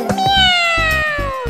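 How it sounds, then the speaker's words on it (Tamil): A cat meows in a single drawn-out, falling cry, loud and close and alone, over a light rhythmic musical backing in a children's rhyme. "ஆஹா, பூனை வந்துடுச்சு."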